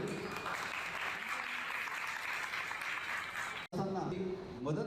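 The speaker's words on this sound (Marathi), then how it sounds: "हात वर करून डबल दोन्ही हातात टाळ्या वाजवायची।" A crowd at a student felicitation ceremony claps steadily in a dense wash of hands for several seconds, then the sound cuts abruptly and a voice speaks over a loudspeaker.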